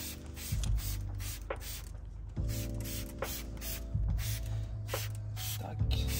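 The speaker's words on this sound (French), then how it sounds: "Alors le jet par contre il est ultra bien. Il pulvérise large." Acid-free wheel cleaner sprayed in wide bursts onto a BMW 7 Series 730Ld rim, with several short hissing trigger pulls spaced a second or so apart over a steady background hum.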